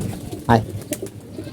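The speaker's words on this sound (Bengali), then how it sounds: "যে দুইটা কবুতর বের হয়ে সুন্দর আসছে আর বাকিগুলো তো ওখানে বসে রয়েছে" Pigeons in a loft coo once clearly, then give a couple of softer, shorter calls, close by against faint background noise.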